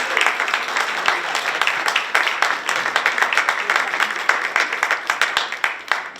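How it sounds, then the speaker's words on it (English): Steady audience applause fills a theatre space after performers are introduced before a Dracula stage show, dense overlapping claps sustained throughout at moderate loudness with no break. "So if we could give them a big round of applause."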